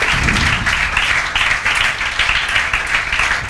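A classroom of students applauds, a dense, fairly loud burst of many hands clapping at once with slight pulses, continuing without pause and mixed with some background voices.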